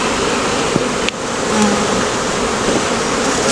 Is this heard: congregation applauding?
no